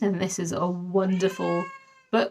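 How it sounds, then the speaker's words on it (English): A pet cat crying indoors with loud, drawn-out meows close to the microphone, overlapping and following a person talking nearby. "That is my cat crying"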